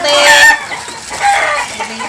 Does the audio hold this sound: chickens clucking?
yes